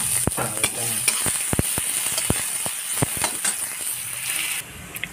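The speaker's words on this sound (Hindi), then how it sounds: "इसके बाद हम ये प्याज डाल देते हैं, इसको हम चला देते हैं।" Onions, mustard seeds and curry leaves fry in oil for poha while being stirred, a constant sizzle dotted with sharp pops and ticks, close and alone.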